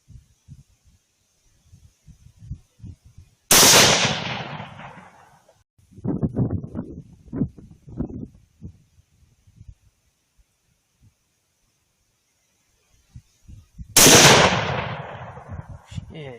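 Two sharp, loud rifle gunshots from a 6.5PRC, fired well apart while shooting feral pigs, each with a rolling echo, with rustling and brief faint talk between them.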